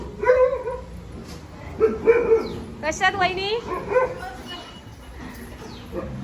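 A dog barks and yips in a village setting, several sharp barks close by with some whimpering, mixed with people talking over and around them.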